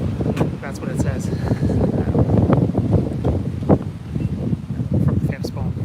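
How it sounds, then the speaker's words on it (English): Strong gusty wind buffets the microphone outdoors at a war memorial in Ottawa, roaring steadily throughout while a person talks underneath it. "I'm really hoping the wind was going to die down by now."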